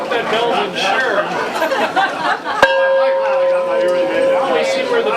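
A large bell rings out at a Fourth of July celebration with one sharp strike that leaves a long sustained tone, heard under steady crowd chatter and nearby talk.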